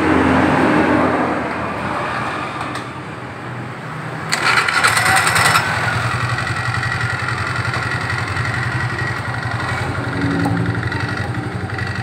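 Automatic scooter with a CVT drive cranked and started, a brief starter burst followed by a steady close idle with faint mechanical rattle and light fluctuations in the engine note.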